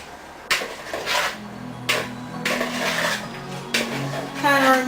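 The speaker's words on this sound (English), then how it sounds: "I'm gonna go ahead and mix this mixture up" Big spoons stirring and tossing a raw vegan pasta salad with faux mayonnaise in a bowl, giving several scraping, clattering strokes in bursts, close and moderately loud, with a voice humming or talking softly underneath.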